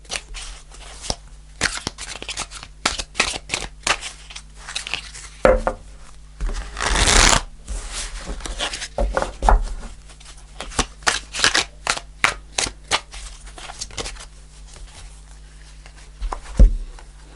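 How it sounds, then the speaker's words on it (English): Tarot cards being riffled and shuffled repeatedly, crisp fluttering bursts with brief pauses between, close up, no talking. "I'm shuffling"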